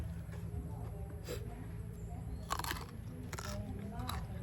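Crunchy bites and steady chewing of rice with spicy bitter koi, hot chilies and fresh vegetables, close to the mic and fairly quiet, with a few sharper crunches and soft voices in the background.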